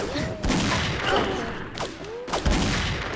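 Gunfire in an online shooter during a sniper match with an M200 rifle: a few sharp, loud shots ring out over a busy game soundscape, with a clear pause between the bursts.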